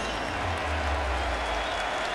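Steady roar of a large stadium crowd at a Tennessee football home game against Pitt, loud and continuous, with faint voices mixed into the din.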